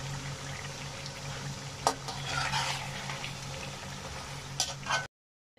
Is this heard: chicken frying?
yes